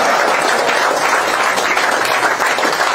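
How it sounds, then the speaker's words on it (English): Sustained audience applause at a political rally in Fort Lauderdale, a loud, dense wash of clapping filling the whole stretch with no break. "You can clap."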